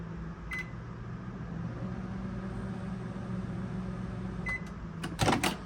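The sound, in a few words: Wolf microwave oven running after repair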